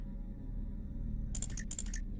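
Soft clicks from a power-reactivation mini game in Mass Effect, arriving in two short bursts of rapid clicking over a steady low hum of game background.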